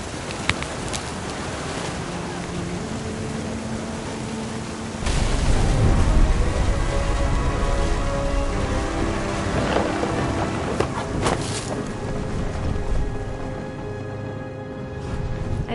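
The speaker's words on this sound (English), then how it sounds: "The thunder sounded much too close and full of angry power." Thunder and rain in the video game What Remains of Edith Finch, a steady wash of rain under low rolling thunder that swells into a heavy rumble midway, with sharper cracks and hits later.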